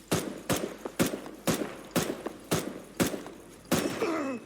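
M1 Garand rifle fire in a World War II combat video game, a rapid run of eight loud, evenly spaced shots about half a second apart, then the metallic ping of the ejected clip at the end.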